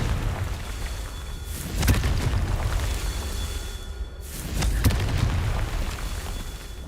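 Spell explosions from a Confringo blast in the Hogwarts Legacy video game, two booming bursts about three seconds apart over a steady rumbling game ambience.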